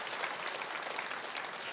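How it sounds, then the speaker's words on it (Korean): A church congregation at a Korean service claps together, giving a dense, even round of applause that fills the short moment with no talk over it. "우리 다시 한번 박수 할까요?"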